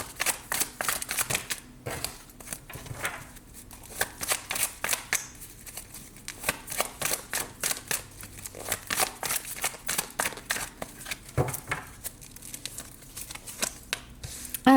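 Tarot cards shuffled for a love reading, a steady rapid riffling and flicking that runs continuously, close and fairly loud.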